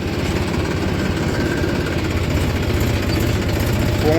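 A tractor engine rumbles steadily and loud throughout, a low pulsing drone with no talk, one of several tractors moving in a line hauling sugarcane trolleys.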